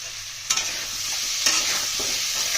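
Masala with tomato and green chilli sautéed in a pan, a loud, close hissing sizzle with two sharp spatula scrapes in quick succession.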